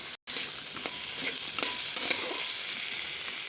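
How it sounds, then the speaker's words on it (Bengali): Fried fish heads being stirred in a hot pan, a spoon scraping and turning them through a steady, close oil sizzle, with no talking. "এই মাছগুলো ভাজা দিয়ে ফেললাম, দিয়ে এখন নেড়ে ফেলবো।"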